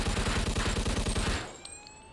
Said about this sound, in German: schießen wir einfach raus